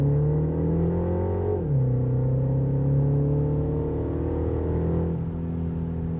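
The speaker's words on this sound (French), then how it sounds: "on n'a pas un 3 cylindres, on a un 4 cylindres, donc ça gronde un petit peu comme un vrai moteur" A Mini Countryman SUV's four-cylinder engine pulls under acceleration from inside the cabin, a steady droning growl that rises in pitch, drops with a gear change, then climbs again, with no talking.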